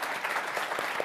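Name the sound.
applause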